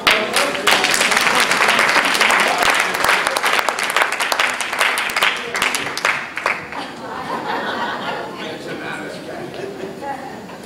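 A theater audience at a magic and mentalism show breaks into steady, dense applause that holds loud for several seconds, then thins and fades, with some chatter and light laughter mixed in.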